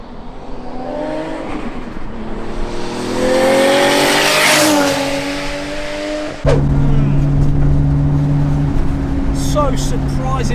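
A 910 bhp big-turbo Nissan R34 Skyline, rear-wheel drive, revs hard with a rising engine howl and tire noise, then drops to a steady loud drone after an abrupt shift, with someone talking over it.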